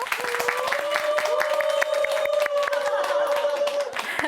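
A seated audience at a Catholic senior academy gathering claps in welcome, brisk scattered hand claps over a sustained musical tone with a voice briefly present.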